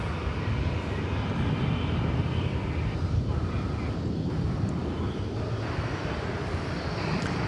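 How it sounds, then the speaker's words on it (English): An American Boeing 777 arriving from Cancun on approach into DFW Airport, a continuous broad jet engine roar heard from a distance with wind buffeting the microphone, steady throughout. "we are going to check out a 777 coming in from Cancun."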